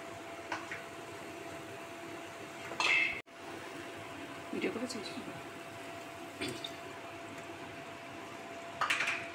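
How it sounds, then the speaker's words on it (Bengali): A steel bowl and a mixer grinder jar knock and clink a few times as they are washed in a kitchen, with faint running water between the scattered sharp clatters. "এবারে এই বাটিটা ধুয়ে এবং মিক্সির বাটিটা ধুয়ে একটু জল দেব"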